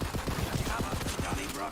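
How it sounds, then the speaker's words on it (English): A Hyperion submachine gun firing in Borderlands 3, a rapid steady stream of close, punchy shots in quick rhythm, continuous throughout. "this Hyperion SMG actually feels less clunky than the purple one"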